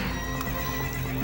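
A horse neighs in the Zelda: Ocarina of Time video game during a horse race, a loud, close whinny with clip-clopping hooves over a steady game soundtrack, with no talk.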